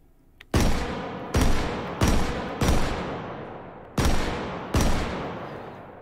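Six loud, sharp blasts from a Pancor Jackhammer shotgun firing buckshot in H3VR, spaced about a second apart with a brief pause before the last two, each trailing a short decaying tail.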